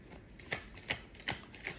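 Tarot cards being shuffled in a quiet room for an Aquarius reading, with four soft riffling bursts at a steady pace, close and fairly faint.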